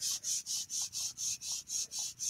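A Stampendable tool rubbed back and forth over a stencil to press a card impression, giving ten even, rhythmic scratchy strokes in quick succession, close and fairly quiet.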